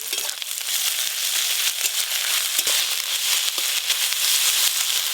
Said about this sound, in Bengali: পেঁয়াজ আর আদা খুব ভালো করে ভেজে নিয়েছি,